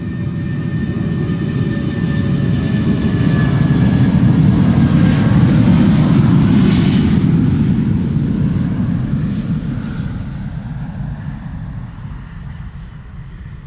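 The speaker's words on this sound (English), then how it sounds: "this is BA flight 431 to London Heathrow," A British Airways Airbus A319 jet, 23 years old, passing at Schiphol with a deep engine roar and a high whine, swelling to a peak midway and then fading as it moves away.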